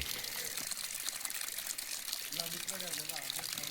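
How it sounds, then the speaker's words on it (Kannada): Steady rushing and splashing of irrigation water spraying onto coconut farm plants runs throughout, with faint voices and a few tonal sounds partway through. "ಎಲ್ಲ ಗಿಡಕ್ಕೂ ನೀರು ಬೀಳುವಂಗೆ ಮಾಡಿದ್ದಾರೆ"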